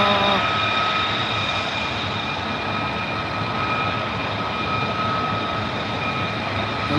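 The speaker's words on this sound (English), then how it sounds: "There it is, the F-35, the loudest thing in the world." An armed Lockheed Martin F-35A fighter jet flies past, producing a loud, steady, broadband jet roar that holds for the whole stretch without easing.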